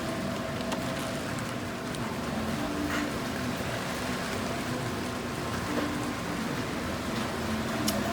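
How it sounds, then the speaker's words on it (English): Steady heavy rain hisses and patters continuously, with occasional sharper drops and a low background hum underneath. "that noise you're hearing is the rain."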